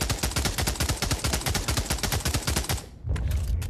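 An MP40 submachine gun fires in the VR game Pavlov Shack: a rapid, steady automatic burst of close, loud shots lasting about three seconds, then stopping.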